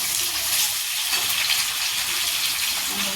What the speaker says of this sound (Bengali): ওই জন্য আলু আর বেগুন দুটো একসাথেই ভাজবো।